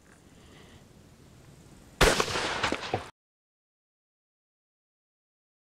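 A single loud Beretta shotgun blast with 7.5 birdshot at an outdoor range, a sharp crack with a short decaying tail, then abrupt silence.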